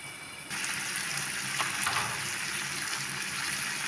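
Dry fish and beef fry in a covered pan with a dense, steady sizzle that swells suddenly after a brief quieter start, then crackles on continuously and close, with no voices.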